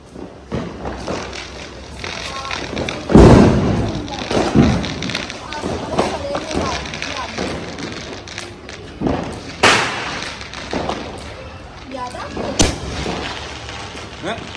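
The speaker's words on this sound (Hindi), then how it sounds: "ये फोड़ लियो पटाखे" Diwali firecrackers go off outdoors in several loud, sharp bangs and deep thuds, spaced irregularly, while people chat and call out between the blasts.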